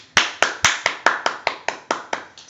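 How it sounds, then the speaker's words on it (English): A teen Bible-reading class claps hands in a steady, even rhythm of about ten sharp claps, fairly close and with no talking. "When I ask you to clap, make sure you are clapping"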